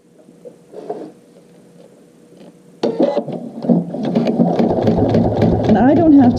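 Sewing machine stitching an adjustable bag strap, starting after a quiet moment with a faint voice, then a loud, dense run of rapid stitching for the last few seconds, with some talking over it.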